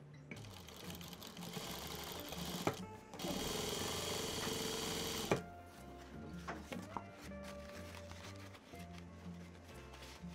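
A sewing machine stitches denim for a handbag using a quarter-inch edge stitching foot, running in a steady burst of rapid mechanical chatter, with quieter stop-start stitching and handling clicks around it, fairly faint overall.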